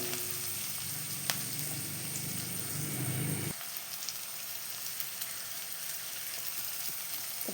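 Onions sautéing with ginger, garlic and salt for a vegetable kurma, a steady close crackling sizzle in the pan that drops to a quieter hiss partway through.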